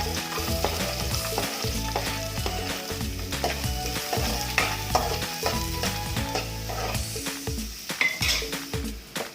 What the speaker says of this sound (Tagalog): Once the oil gets hot, saute onion